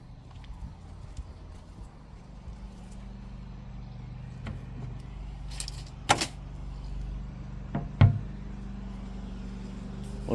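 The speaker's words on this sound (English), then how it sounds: "A lot of cars going past here." Traffic passes along a road outside, a low continuous rumble of car engines with a few sharper nearby knocks and clicks over the faint steady drone.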